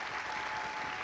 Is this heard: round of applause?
yes